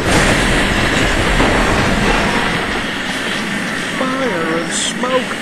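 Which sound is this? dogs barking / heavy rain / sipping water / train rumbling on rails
train rumbling on rails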